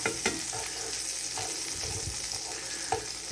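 Butter melting in a frying pan gives a steady close sizzle with small crackles and pops throughout, and no talking over it.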